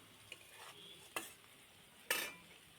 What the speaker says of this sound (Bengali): তো দেখো আমি লঙ্কা আর পেঁয়াজ এগুলো দিয়ে আমি ভেজে নিচ্ছি